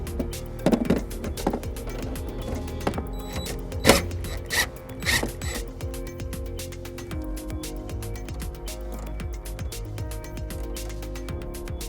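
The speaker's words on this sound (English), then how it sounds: "I'm going to be using a 10 millimeter socket to do it." A 10 mm socket wrench ratchets repeatedly while fastening a power wire to the fuse box of a 2009 Volvo XC90, rapid close clicking with a few knocks, no talk.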